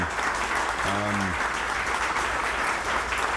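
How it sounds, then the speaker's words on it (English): A crowd at an airport announcement claps in a dense, even wash of applause, loud and continuous throughout, with a brief tonal sound near the start. "I think we should give Bryant and the entire airport staff that are here today a big round of applause if we can."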